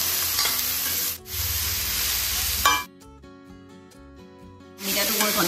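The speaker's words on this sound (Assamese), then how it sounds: "অমিতাটো মই ঘনে ঘনে লৰাই আছোঁ" Green papaya fries in a pan with potato and sugar as a spoon stirs it, loud continuous sizzling with scraping strokes, dropping out briefly twice before the hiss resumes.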